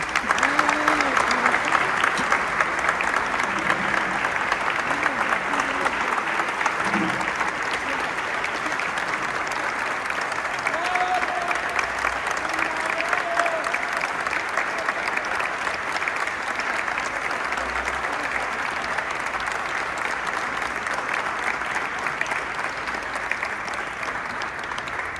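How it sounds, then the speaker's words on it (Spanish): Sustained applause from a large audience at an afternoon tribute ceremony, a dense, even roar of clapping that holds steady for the full length, with faint voices in the first seconds. "Y también en esta tarde pedimos un fuerte aplauso para Minda Cleven"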